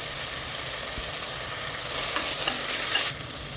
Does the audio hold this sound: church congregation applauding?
no